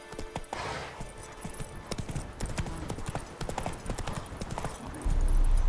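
Roach, the horse in The Witcher video game, trots along with a fast, continuous clip-clop of hooves, close and fairly loud over faint game ambience.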